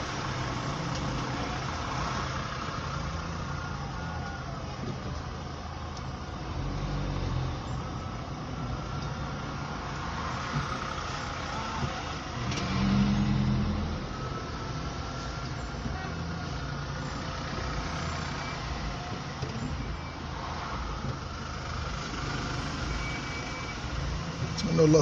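Busy motorway traffic in Casablanca, a continuous wash of passing cars and trucks with engine rumble and occasional heavier vehicles, steady and moderately distant throughout.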